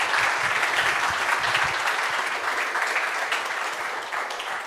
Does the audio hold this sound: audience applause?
yes